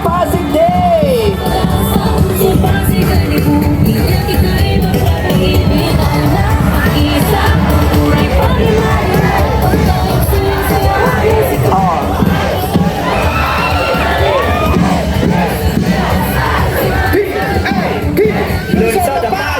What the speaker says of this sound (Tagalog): At dahil dyan sa malakas na hiyawan!